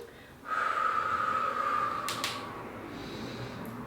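One long, strong exhale during a squat with a steel mace, starting abruptly and tapering off over about two seconds, close and clear, with a short sharp click near the end.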